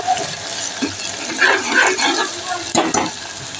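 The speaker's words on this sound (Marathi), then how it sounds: "आता ह्याच्यामध्ये घालणार आहे आदलं लसूण पेस्ट छान असं परतवून घेणार याला" Ginger garlic paste sautéing in a pan with cinnamon, soft sizzling and stirring scrapes, close and moderate, with a couple of sharp utensil clinks near the end.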